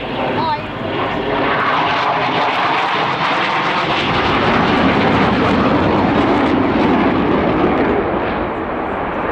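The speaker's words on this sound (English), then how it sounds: "the figures that you'd expect from a thrust vectoring aircraft" A thrust vectoring jet aircraft performs at the RIAT 2018 airshow, its loud engine roar holding steady and broadband throughout, with voices talking underneath.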